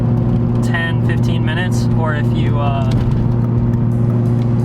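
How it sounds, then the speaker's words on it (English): A loud widebody Acura RSX Type S with a broken thermostat idles with a steady, droning engine hum, while someone talks over it close by. "This car is so loud."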